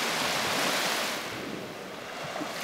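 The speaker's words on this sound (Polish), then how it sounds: "i te fale, które chcą mi tyłek podmyć, są bezcenne." Baltic Sea waves wash onto the beach at Stegna, a broad, loud hiss of surf that swells at first and then eases into a softer wash, with no one talking.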